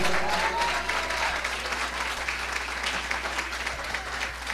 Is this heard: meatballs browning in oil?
no